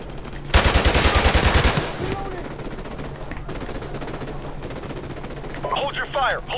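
Gunfire in the video game Call of Duty: Modern Warfare Remastered, beginning with a loud, rapid automatic burst of about a dozen shots, followed by scattered, fainter shots and battle noise, with a shouted voice near the end.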